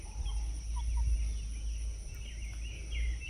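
Chickens, pullets and hens cluck and chirp in the shade at a moderate distance, with soft scattered calls over a steady low rumble and faint background noise, and no voices.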